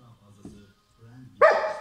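A Belgian Malinois police dog gives a single sharp bark near the end, close and loud, after quiet moments with a faint voice nearby.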